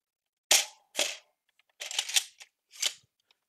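A Caliburn foam blaster being fired and cycled, heard as a handful of sharp, close mechanical clacks and snaps spread over a few seconds, with quiet gaps between them and no speech.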